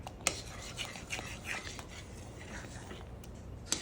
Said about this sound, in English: Just stir, stir, stir.